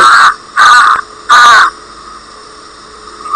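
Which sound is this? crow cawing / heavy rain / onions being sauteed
crow cawing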